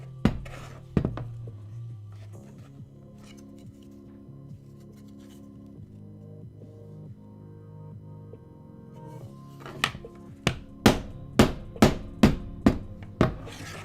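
Someone taps with a hammer while crafting diorama and action figure props, giving a couple of early knocks over a low hum, then a quick steady run of about eight sharp, close strikes.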